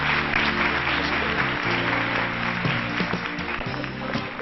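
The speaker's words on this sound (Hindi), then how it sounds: "बहुत सारी तालियां होनी चाहिए उनके लिए।" Studio audience applause on a Pakistani morning TV show, a steady wash of many hands clapping loudly and continuously, with a low musical bed running underneath.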